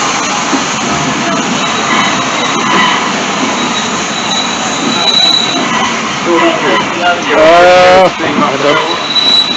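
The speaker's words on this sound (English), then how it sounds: "The freight's going that way. It's going the wrong way. Yeah, it's stopping." A freight train at a heritage railway steam gala rumbles past steadily with broadband rolling noise, then brakes to a stop with rising and falling wheel squeals near the end, while voices chatter faintly nearby.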